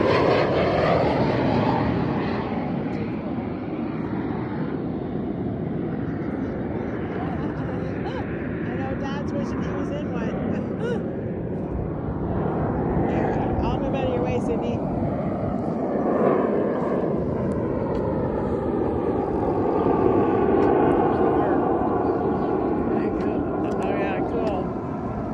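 Snowbirds jet aircraft roar overhead at an air show, a loud, sustained broadband rush that swells and shifts in pitch as they pass, with people talking faintly underneath.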